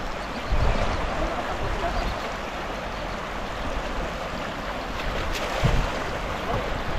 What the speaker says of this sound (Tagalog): Lumalakas na yung tubig.